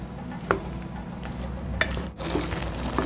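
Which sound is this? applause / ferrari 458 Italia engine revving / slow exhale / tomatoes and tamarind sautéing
tomatoes and tamarind sautéing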